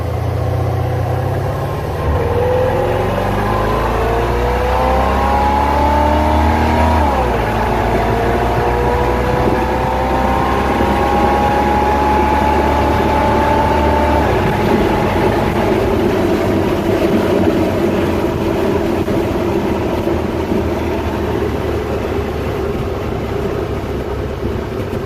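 A 1947 Willys hot rod truck with a turbo 350 three-speed transmission and a slight misfire drives down the road, its engine droning loudly and steadily as it rises in pitch through gear changes under constant road and wind roar.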